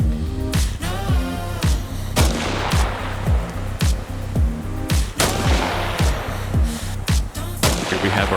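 Repeated sharpshooter rifle shots in the video game Arma Reforger, loud sharp cracks roughly every half second to second, each with a booming tail and distant echo.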